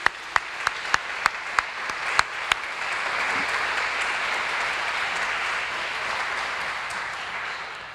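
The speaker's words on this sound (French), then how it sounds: "Oui, allons-y, applaudissons-le." Applause at a sculpture lecture in an oceanographic museum opens with a few sharp, isolated claps, then swells into continuous, even clapping from the audience that holds steady to the end.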